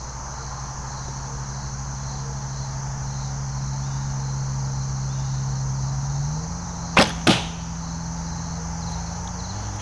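A traditional archery bow looses a single arrow at practice, giving two sharp close snaps in quick succession, the release and the impact, over steady insect-like background hiss.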